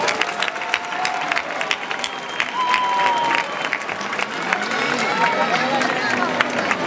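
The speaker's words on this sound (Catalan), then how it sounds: "Un fort aplaudiment per les tres majestats." Outdoor crowd at a Three Kings night celebration in Vila-seca claps and cheers for the kings, steady dense applause with scattered whistles and babble throughout.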